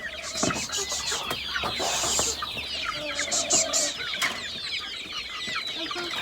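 Chicks and hens cluck and peep steadily at feeding time on a farm, a busy chorus of overlapping calls close by with occasional louder squawks.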